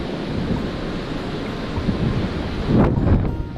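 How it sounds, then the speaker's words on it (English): Strong wind roars steadily on Wharariki Beach, New Zealand, buffeting the microphone, with a louder gust near the end and faint surf underneath. "So yeah, it's pretty windy still."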